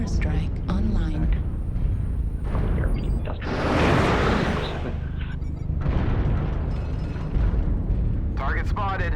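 Artillery strike explosions in the MechWarrior Online video game, set in heavy rain: a deep, loud rumbling blast swells in the middle amid steady battle noise, with a voice speaking intermittently.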